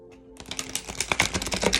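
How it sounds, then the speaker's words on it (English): Tarot cards are shuffled up close, a quick run of crisp, rapid riffling and flicking clicks that grows denser and louder after a brief quiet start. "Alright, so we'll get started with shuffling."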